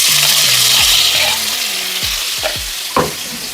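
Loud, steady sizzling of onions frying in hot sunflower oil in a saucepan, with a few scraping stirs of a utensil against the pan.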